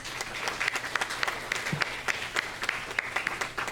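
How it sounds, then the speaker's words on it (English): A school intergenerational event audience claps for students and seniors who gave speeches, a steady round of applause with distinct individual claps standing out, fairly close and moderately loud. "let's have one more round of applause"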